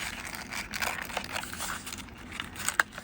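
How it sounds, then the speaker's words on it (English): Ribbon resist peels slowly off watercolor paper with a soft, close-up crinkling and tearing rasp in uneven bursts, ending in a small sharp snap, and no one speaks. "gently pull, because I think the ribbon can be a little stronger than our paper at times"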